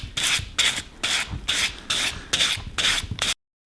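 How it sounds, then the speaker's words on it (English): Fine 240-grit sandpaper rasps over a masked edge in six even back-and-forth strokes, each a bright close scratch, before stopping abruptly. "just take a piece of fine sandpaper, in this case this is 240. And then just carefully rub it over the edge."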